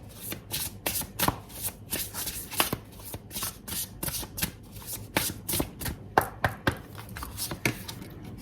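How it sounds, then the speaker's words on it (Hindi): Tarot cards are shuffled and drawn nearby in a run of crisp, irregular slaps and riffles spread over several seconds, with no voices. "तो 2 कार्ड निकालूंगी मैं यहाँ से"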